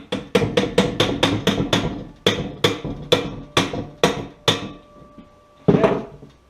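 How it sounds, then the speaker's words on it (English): A hammer taps parts into place on a surface conditioning tool, about a dozen sharp, close strikes in quick runs with short pauses, then one final louder hit. "I'm going to get my hammer, I'm going to tap these into place"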